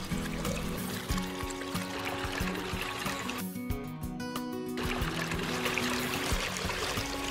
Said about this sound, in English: a torrent of water cascading down a vertical drop